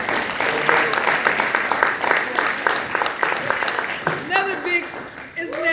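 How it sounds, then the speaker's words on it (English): A study group audience applauds after closing words: dense, steady clapping for several seconds, with voices breaking in near the end as the clapping thins. "Can we all give her another round of applause?"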